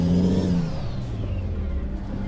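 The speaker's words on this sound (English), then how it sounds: "this engine doesn't sound as good as the other one." Peterbilt 389 truck engine in the Euro Truck Simulator 2 game drones as a steady, loud mid-range rumble with a falling whine, running alone for a couple of seconds.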